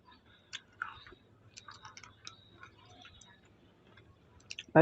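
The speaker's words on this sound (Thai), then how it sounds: "พี่น้องนี่มากินกุ้งเลย" Soft, close chewing of fried shrimp with crisp garlic, a run of small wet clicks and crunches at an irregular pace over a quiet, faintly murmuring background, ending in a louder bump.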